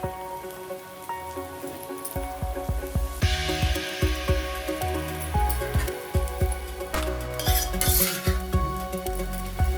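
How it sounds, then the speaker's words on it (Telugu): Boiled potatoes are tipped into a frying pan and stirred, giving a rhythmic series of spatula scrapes and knocks over a steady sizzling hiss, close by with no talk. "ఇప్పుడు వీటిలో మనం ఉడకబెట్టుకున్న బంగాళాదుంప వేసుకుందాం."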